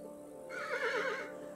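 A horse in the Kingdom Two Crowns video game lets out a single wavering whinny, clear and moderately close over a quiet background hum.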